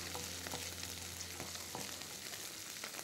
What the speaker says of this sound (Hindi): थोड़ा सा अदरक लहसुन को हम फ्राई करेंगे